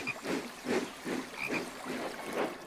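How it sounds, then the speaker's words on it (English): A green frog croaking beside a babbling brook, a series of about six rhythmic raspy croaks at an even pace, close and fairly quiet with no talk. "A beautiful green frog."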